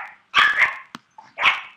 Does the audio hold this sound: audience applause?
no